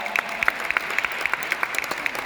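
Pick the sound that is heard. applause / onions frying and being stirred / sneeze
applause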